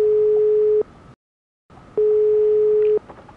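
Telephone network tone signalling that the called number is unavailable: two long, steady beeps, each about a second, separated by a short silence, loud and alone.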